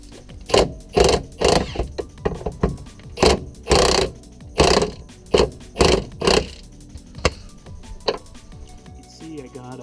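A ratchet tightens the bolts on polyurethane stabilizer bar bushings on a car, giving a run of about a dozen close, evenly spaced bursts of clicking that end in a few lighter strokes.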